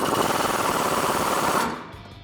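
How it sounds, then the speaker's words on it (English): An impact wrench on an 18mm deep socket tightens Jeep Gladiator body mount bolts in one loud, steady, rapid hammering burst that stops abruptly near the end. "we're going to tighten up our body mount bolts with that same 18mm deep socket"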